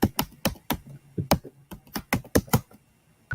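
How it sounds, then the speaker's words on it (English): Rapid, uneven keystrokes on a computer keyboard, a dense run of sharp clicks and taps with brief pauses, close and fairly loud with no voices over them. "I think you're typing too fast."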